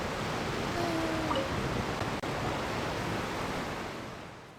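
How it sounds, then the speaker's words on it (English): A loud waterfall roars in the video game Genshin Impact, a steady, dense rush of falling water that fills the whole stretch, close and unbroken apart from one sharp momentary dropout near the middle. "I probably shouldn't have talked there when the waterfalls were so loud."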